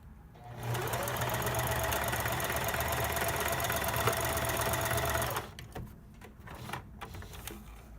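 A sewing machine stitches fabric booties in one fast, steady whirring run lasting several seconds, then stops abruptly, leaving soft handling clicks and rustles close by.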